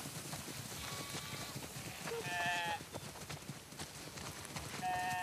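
Sheep bleat in The Last of Us Part II, short high cries rising over steady hoof clatter and background ambience, a few calls spread across the moment at mid distance.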